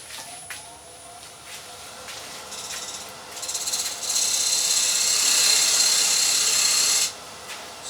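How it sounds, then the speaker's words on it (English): A wood lathe turns a platter while a detail tool takes shear cuts, giving a bright hissing scrape that builds in short bursts and then holds steady for a few seconds before stopping abruptly. "I'm going to use the detail tool. I'm going to do a small dovetail and I'm going to do some shear cutting"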